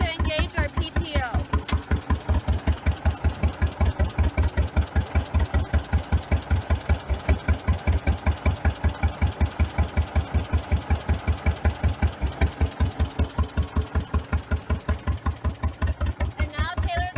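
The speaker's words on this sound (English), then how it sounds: "Now Taylor is going to engage our PTO" A tractor engine idles steadily with its PTO engaged at a 2018 Delo tractor restoration competition event in Nappanee, Indiana: a close, even rhythmic chug that holds throughout, loud and continuous.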